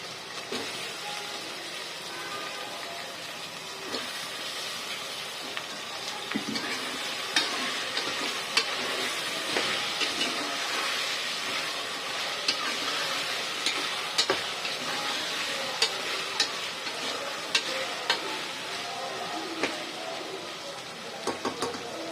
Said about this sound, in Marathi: टोमॅटो थोडा नरम झाला का त्यात आपण घालतोय वांगी तेलात गेली आणि ते वांग तेलात परतलं गेलं